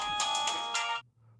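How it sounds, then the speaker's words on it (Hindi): A phone ringtone plays a bright, chiming melody for about a second, then cuts off, leaving a faint low hum. "किसका फोन आ गया?"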